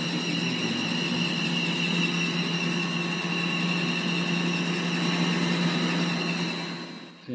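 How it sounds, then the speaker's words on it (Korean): Continuous blower drone with a steady high-pitched squeal riding over it from a slipping, under-tensioned V-belt, close and unchanging. "네, 벨트 좀 미끄러지는 소리 좀 들리죠?"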